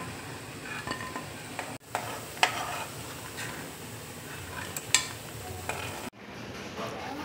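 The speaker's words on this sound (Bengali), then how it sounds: "আমি কিন্তু এখানে সাদা তেলে ভাজছি" Churma dough pieces fry in white oil with a soft, steady sizzle, broken by occasional clinks and scrapes of a utensil being stirred through the pan, quiet and without talk.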